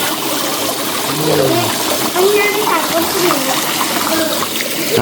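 Water at Tat waterfall rushes and splashes in a continuous loud wash, with voices talking underneath it.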